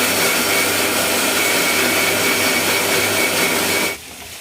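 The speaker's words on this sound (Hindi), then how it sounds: "मैं मसाला भी पीस लेती हूँ।" A kitchen mixer grinder whirs loudly and steadily while grinding spice masala, then cuts off abruptly, leaving a quieter background.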